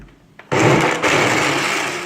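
A blender whirs loudly into action after a brief quiet start, churning gazpacho tomato soup with herbs in a steady, continuous grind.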